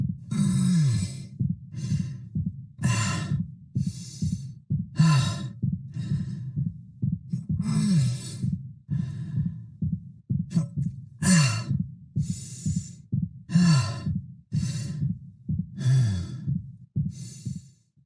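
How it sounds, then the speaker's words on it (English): Isaac's injured, fatigued breathing from the Dead Space Remake: heavy rhythmic inhales and exhales with groaning sighs and winces, repeating about every second or two, close and alone. "hearing those injured winces, those fatigued breaths mixed in with his regular breathing actually sounds quite natural"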